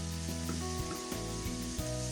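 Fresh spinach sauteing in a hot pan, giving a steady, close sizzle with faint stirring scrapes, no voices.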